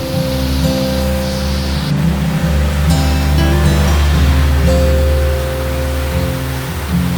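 Rain pours steadily onto the tin roof of a village house, a dense and constant hiss that stays loud throughout, with a soft tonal music bed underneath.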